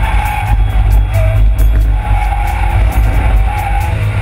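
A 2012 BMW 335 is driven hard on a road test, its engine roaring loudly and steadily under acceleration with tire and road noise close by and no talking.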